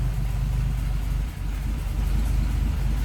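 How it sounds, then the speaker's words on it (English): A 1937 Lincoln Zephyr coupe's V12 idles smoothly and steadily, a low, even, quiet hum with no talk over it. "Just a smooth running V12 underneath the hood."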